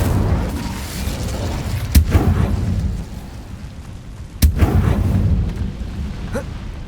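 An Incendio fire spell cast in the Hogwarts Legacy video game: two sharp bursts flare out of a constant low rumble, spaced a few seconds apart.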